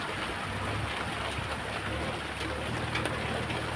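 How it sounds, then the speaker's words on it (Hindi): Heavy rain pours down in a steady, dense hiss over a Himachal hill village, constant and enveloping, with no voices. "जैसे आप देख रहे हो कि कितनी ज़्यादा बारिश हो रही है"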